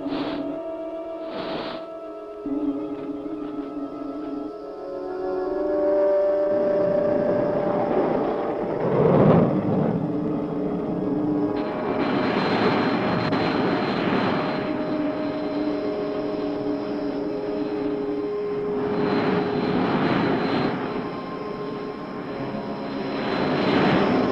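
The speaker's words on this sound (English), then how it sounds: "Stand by, crew. We're coming about for a landing." A cartoon spaceship comes about for a landing, its engine drone humming loud and steady with rising and falling whooshes and a few tonal swells throughout.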